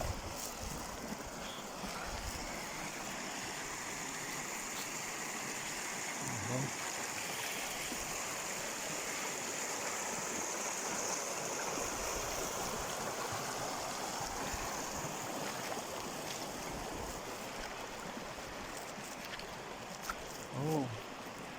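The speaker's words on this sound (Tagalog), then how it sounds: "Hindi ako makapaniwala na mayroong ilog dito sa gitna ng disyerto dito sa Saudi." Steady rushing of a river flowing through the desert in Saudi Arabia, a constant broad wash of sound that continues without pause.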